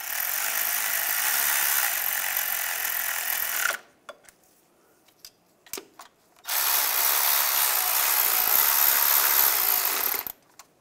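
Power tool driving camshaft position sensor bolts on a 2007-2013 Chevrolet Silverado 1500, two loud sustained whirring bursts separated by a pause with small clicks and taps.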